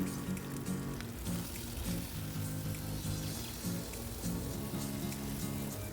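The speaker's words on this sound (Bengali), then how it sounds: "আবার কিছুটা ভেজে নিয়ে দিয়ে দিচ্ছি টমেটো কুচি" Chopped tomatoes hit a kadai of frying onion and garlic for restaurant-style kadai paneer, giving a steady, close crackling sizzle that holds evenly throughout, with no talk.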